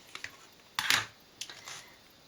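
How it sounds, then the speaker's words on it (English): Scissors snip through cloth for a handmade traveler's notebook, giving a few sharp, close cuts with quiet pauses between them. "Now I'm going to snip it."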